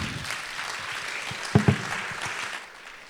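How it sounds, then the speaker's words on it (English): A lecture audience in Jaipur gives steady applause for an art historian after a talk on Jodhpur royal paintings, a soft even patter with a couple of louder thumps before it tapers away. "Big round of applause, please, for Debra Diamond."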